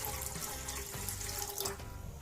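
Water poured into a pan from a tap for tomato soup, a steady gushing flow with small splashes, close and continuous, without talk.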